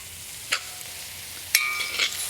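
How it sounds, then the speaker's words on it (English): Green beans sizzle softly in a hot wok for a Szechuan-style stir fry, a low steady hiss broken by a few sharp clinks of a utensil stirring. "You can already hear the sizzle in the wok"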